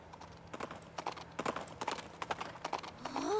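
Horse hooves clip-clop in the Nintendo Switch game Princess Peach Showtime, an even run of crisp hoofbeats at a trotting pace, ending as a rising whinny begins.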